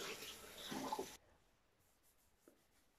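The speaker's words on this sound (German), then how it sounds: "Ich tue dann immer noch ein bisschen mit Wasser drüber gehen. Mit einem Waschlappen mache ich das." Water splashes and sloshes as a face is rinsed with a washcloth, a close, busy watery sound for about a second before cutting off into near silence with a faint tap.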